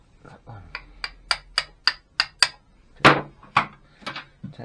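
Sharp metallic taps strike the engine cases of a BSA A50 motorcycle during disassembly, about a dozen close, evenly spaced knocks in a quick rhythm, with a faint low hum beneath.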